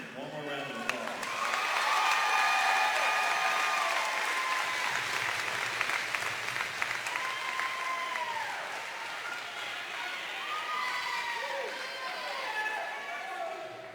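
Sustained applause from the audience at a state volleyball championship awards ceremony, steady crowd clapping that stays full for several seconds, with voices talking and a faint announcer heard over it.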